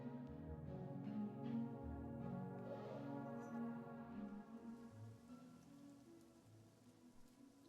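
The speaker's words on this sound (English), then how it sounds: "It's raining." Steady rain patters and drips on surfaces in the video game Wanderstop, a soft continuous wash with scattered droplet ticks, faint and alone.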